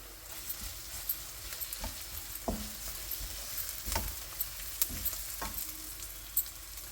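Spices being tempered in hot oil in a pan for chicken curry, a steady close sizzle broken by scattered crackles and pops, with no voices.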